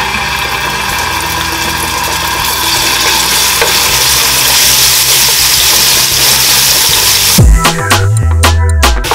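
Spices hit hot oil in a pot for a salt cod sauce, giving a loud, steady sizzle and crackle that runs throughout and ends in a few sharp clatters near the end.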